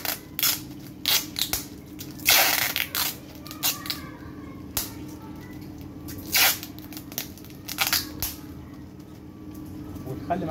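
Sticky tape is pulled off a roll in short rasping bursts to seal a mushroom compost bag, several sharp rips spaced irregularly over a low steady hum.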